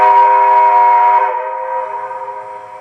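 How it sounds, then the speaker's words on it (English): A G-scale model train sound system sounds its steam-style whistle, a loud steady multi-tone blast held for over a second before easing off into a softer fading tail. "The whistle will blow."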